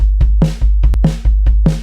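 Drum kit playing an eighth-note triplet fill idea in a worship drumming context: low kick thumps with repeated bright snare and tom strikes in a steady grouped rhythm, close and loud, no talking.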